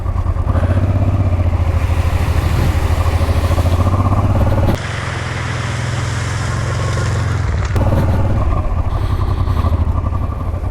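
Honda Transalp XL700V motorcycle ridden on a rough unpaved road in Sardinia; loud, close engine drone with wind rush and rattle, pitch shifting at gear changes around the middle, no speech.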